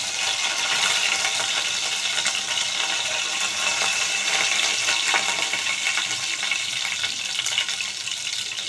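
Curry leaves hit a hot oil tempering of mustard seeds and cumin for tomato rasam, producing a steady, hissing sizzle with faint crackles that holds evenly throughout, and no voices.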